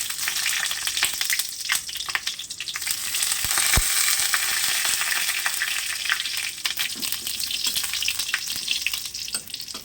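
Capsicum frying in hot oil in a pan gives a steady, close, dense sizzle with light stirring crackles that runs the whole way through, with no talk.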